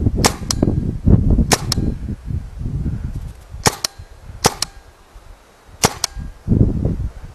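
Sharp, dry cracks from a RAP4 T68 M4 paintball marker fired outdoors, single shots and quick pairs at uneven intervals, several of them smacking into a tree, over a rustling background.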